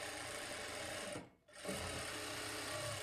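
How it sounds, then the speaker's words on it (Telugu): A sewing machine stitches a blouse lining in a continuous close whirring run, stopping briefly midway and then starting again at the same steady speed. "ఇప్పుడు ఇక్కడ నుంచి స్టార్ట్ చేసుకొని ఇదే స్టిచ్ మీద స్టిచ్ చేసుకోవాలి."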